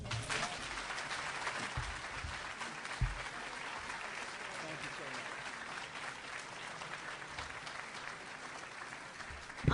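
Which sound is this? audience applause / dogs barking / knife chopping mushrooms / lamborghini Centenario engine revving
audience applause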